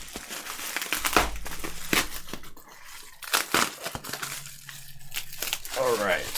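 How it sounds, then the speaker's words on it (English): Packing tape is ripped off a KBO-5000 split mechanical keyboard box from Kebio, giving sharp tearing rips and crinkling cardboard and plastic noises close by, mixed with someone talking. "I'm about to just start ripping tape here in a second."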